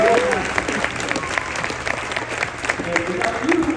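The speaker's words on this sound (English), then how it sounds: "we can give everyone a round of applause again" An audience at a school band concert for grades 7-8 applauds the student musicians, a dense patter of clapping throughout with a voice speaking over it near the start and end.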